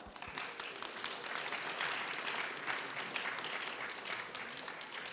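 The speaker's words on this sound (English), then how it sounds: "So welcome, give her a round of applause." A round of applause from a panel-event audience welcoming a marketing panelist, a moderate, fairly even patter of many hands that stays steady throughout.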